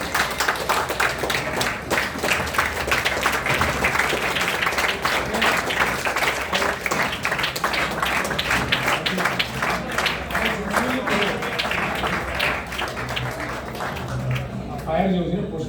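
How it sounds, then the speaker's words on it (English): An audience at an engineering panel discussion stands and claps for scientists, producing loud, dense, continuous applause that lasts about fifteen seconds before fading slightly at the end. "Big round of applause."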